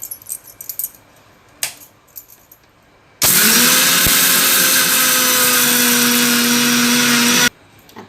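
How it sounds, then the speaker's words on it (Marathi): An electric mixer grinder powders sugar to a fine consistency, starting abruptly with a loud, steady whirring drone that holds for about four seconds and then cuts off sharply, with a few small clicks before it. "या मिक्सरनं फाईन एकदम बारीक साखर होते."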